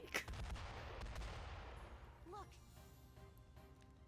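Explosions in the video game Metaphor ReFantazio: a sharp blast opens a long, rumbling roar that gradually fades, heard fairly faintly with a brief spoken word at the start.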